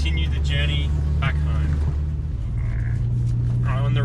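Iveco Daily van rolls along the road with a low steady engine hum inside the cab while someone talks over it.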